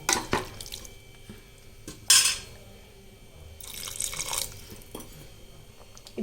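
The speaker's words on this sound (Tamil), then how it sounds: "இப்போ நம்மளுக்கு இதில் திட்டமாக கொஞ்சம் தண்ணி விட்டுக்கலாம்" Water splashes and gurgles in short bursts into a metal pressure cooker while making chicken kulambu, with a few clinks of utensils between pours, close and fairly quiet.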